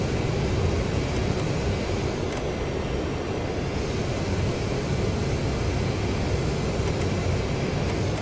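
In the DCS World flight simulator, an AJS37 Viggen jet engine runs at reduced throttle, just over seventy percent. It makes a loud, steady, dense roar with a faint high whine that holds throughout, and no one speaks.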